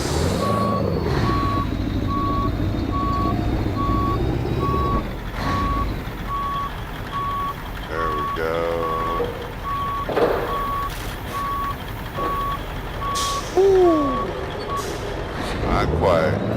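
Truck reversing in the American Truck Simulator game, a loud steady series of evenly spaced reversing beeps running through most of the stretch over engine rumble and air-brake hisses, with talk mixed in.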